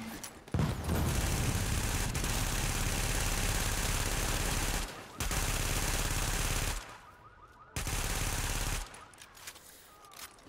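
Sustained automatic gunfire and sniper shots in The Division video game, loud and dense in long continuous stretches broken by short pauses, with brief quieter gaps between bursts.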